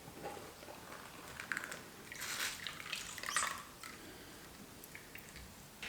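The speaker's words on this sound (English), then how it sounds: "just give this a rinse" Water splashing and dripping while an oat milk container is rinsed, faint and irregular, with a few louder sloshing bursts in the middle.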